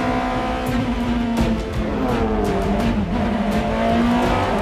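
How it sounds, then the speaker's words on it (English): A 2002 BMW M3 E46 race car, stripped and gutted, drives hard with a steady engine drone shifting in pitch and tires squealing, loud and close throughout with no talk. "races a 2002 BMW M3 E46"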